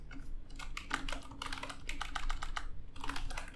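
Someone types quickly on a computer keyboard nearby, with irregular bursts of clicking keys broken by short pauses.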